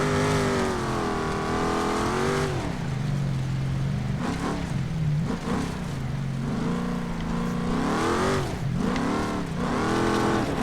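An off-road vehicle in the BeamNG driving game pushes through a sand section, its engine droning loud and steady, then revving up and down in repeated surges with no talking.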